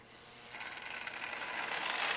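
Marx toy train set running in reverse after cleaning and lubrication, a close mechanical whirring and clicking of small gears that steadily grows louder.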